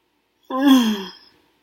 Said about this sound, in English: Excuse me, I just had a yawn.